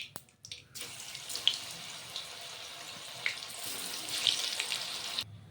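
Battered cauliflower pakoras for a chilli fulkopi dish sizzle in hot oil, a steady close hiss broken by occasional sharp pops and crackles, with no talking.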